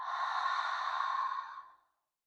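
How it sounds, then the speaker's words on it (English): A deep yoga exhale out through the mouth, a single smooth breathy rush lasting well over a second and fading out into silence. "Exhale out through the mouth."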